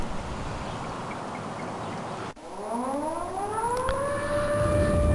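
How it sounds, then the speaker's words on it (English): An air raid siren wails in the Titanic: Adventure Out of Time video game, cutting in after a brief dropout and rising in pitch as it winds up, loud and steady with no talk over it. "Air raid siren."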